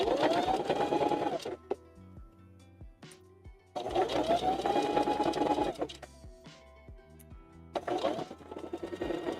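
A sewing machine in a puppet-building shop runs in three loud stitching bursts, separated by short pauses filled with clicks and handling noises, recorded close with no talking.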